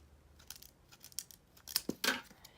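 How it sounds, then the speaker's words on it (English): Scissors cut through the plug end of an extension cord with a few soft snips. Two or three crisp, louder crunching cuts follow near the end, heard close up in a quiet room with no talking. "You're gonna just chop off the big knob from the extension cord."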